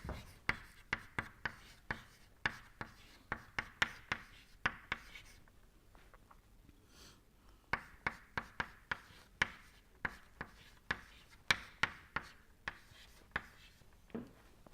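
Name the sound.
writing by hand during a lecture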